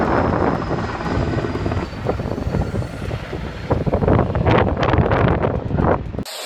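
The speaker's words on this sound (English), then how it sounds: "Here is a Canadian air crane doing some heli logging." A large air crane helicopter heli-logging roars overhead with heavy rotor thumping and wind buffeting the microphone, loud and continuous.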